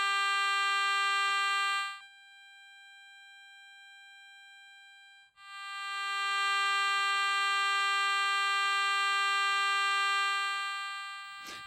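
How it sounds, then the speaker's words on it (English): A Garrett Recon Pro metal detector sounds a steady, loud electronic response tone over a buried target, holding for two seconds, dropping to a quieter tone for about three seconds, then swelling back to full strength. "Locate and mark the nearest edge of the target where the detector's response just reaches full scale."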